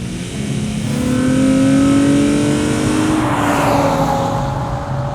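Infiniti G35 manual sports coupe, sharing the 350Z drivetrain, accelerating hard in a straight line; a loud, steady engine note climbs in pitch through the run, alone with no talk.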